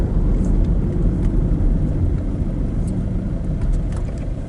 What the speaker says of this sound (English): Look at that traffic, crikey.